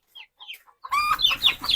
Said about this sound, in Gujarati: દેશી મુર્ગા છે